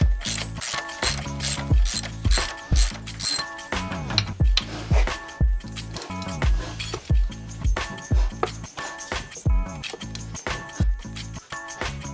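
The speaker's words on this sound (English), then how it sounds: "So here I am, just taking those 4 bolts out." Rear subframe bolts being removed from a crashed Suzuki GSXR750 with a size 10 Allen key, giving rapid metallic ratchet-like clicks and clinks in repeated bursts, close up, with no talking.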